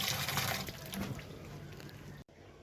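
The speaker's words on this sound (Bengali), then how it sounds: "কচুগুলো আমি ধুচ্ছি" Taro (kochu) being washed by hand in water in a home kitchen: a steady, close splashing and sloshing rush runs throughout, then breaks off abruptly near the end before resuming more quietly.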